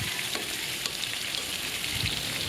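Shrimp sizzle and fry in a hot pan with mixed vegetables, giving a steady, close crackling hiss with small pops and occasional stirring.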